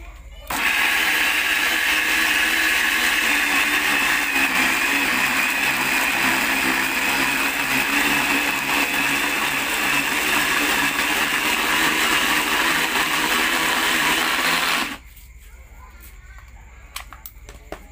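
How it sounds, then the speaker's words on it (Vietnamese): A homemade meat grinder with an upgraded blade grinds fish, a loud steady whirring motor running for about fourteen seconds before cutting off abruptly to near silence. "Với cái máy này mình xay tầm 1 ký thôi nha các bạn."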